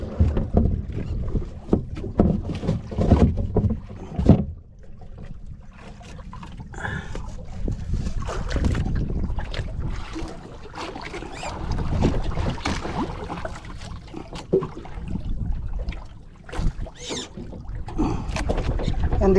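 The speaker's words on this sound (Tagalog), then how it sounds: "Ang diferensya nito, mga kachong, dahil ito lumang makina ni Idol Japper." The old engine of a small boat runs out on the water with an uneven, rumbling chug, mixed with gusts of wind noise and occasional voices in the background.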